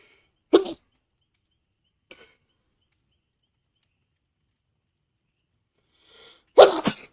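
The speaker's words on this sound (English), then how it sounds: "I think I'm gonna sneeze again." Two sharp sneezes from a person, one early and a louder, doubled one near the end, separated by near silence with a faint breath in between.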